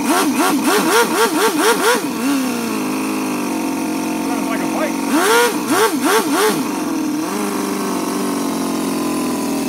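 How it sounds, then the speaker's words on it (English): FS-L400 engine on its first start, revving in wavering surges before dropping to a low, steady idle, then a second run of revs that settles back to a loud idle, with someone talking over it. "that's a nice low idle right there"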